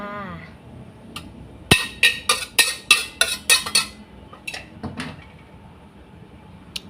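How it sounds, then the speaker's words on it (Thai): Stir-fried choy sum with oyster sauce is poured onto a tray, with a rapid series of loud metallic scrapes and knocks from a utensil against the pan, then a few scattered clinks as it finishes. "เตรียมถาดมาเลยจ้า มาค่ะ เทเลยค่ะ"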